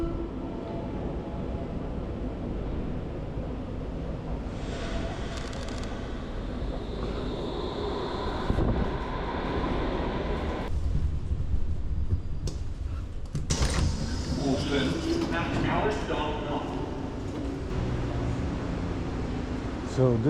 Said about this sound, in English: So this is the museum metro station, a very beautiful metro station.